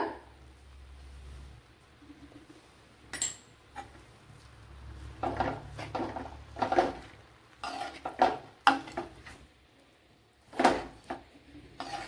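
Fish pieces and banana flower being tossed with masala in a pan, heard as repeated scraping and clattering of a spoon against the pan in uneven bursts, close and fairly loud, with no talk.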